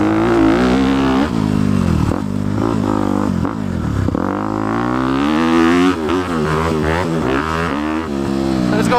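A dialed-in 2018 Honda CRF250 big bore dirt bike roars steadily under load while riding in third gear, the engine pitch rising and falling with throttle changes, loud and close, no talking.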